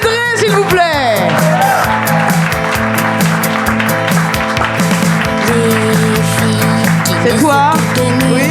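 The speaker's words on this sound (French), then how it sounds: "on va l'accueillir comme il se doit, évidemment. Genre avec des applaudissements" A live audience welcomes a singer onto a stage with loud applause and cheering, mixed with music and voices throughout.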